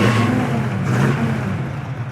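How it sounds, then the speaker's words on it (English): A 1976 Pontiac Trans Am engine rumbles and revs up close with its electric exhaust cutouts open, its raw, throaty exhaust droning steadily for a couple of seconds. "Dad's opened up the exhaust."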